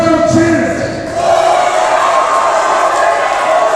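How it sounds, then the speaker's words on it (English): A wrestling event crowd chanting together in a loud, sustained roar that fills the space, voices rising and blending throughout, with an announcer's voice over it. "you can hear the crowd chant"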